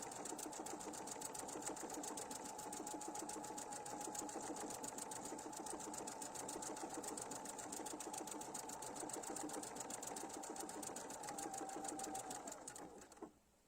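A sewing machine runs in one long, steady, close burst of stitching, its needle beating an even rapid rhythm for about thirteen seconds before it stops abruptly at the end.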